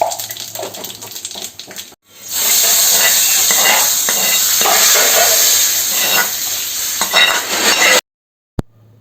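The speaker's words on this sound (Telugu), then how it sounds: "సో ఇప్పుడు పోపు కోసం కొంచెం ఆయిల్ తీసుకుని ఆయిల్ వేడెక్కిన తర్వాత ఎండుమిరపకాయలు యాడ్ చేస్తాము." Dried red chillies, urad dal and mustard seeds hit hot oil with a sudden loud burst of sizzling after a brief quieter moment, the close crackling hiss holding steady for several seconds before cutting off abruptly.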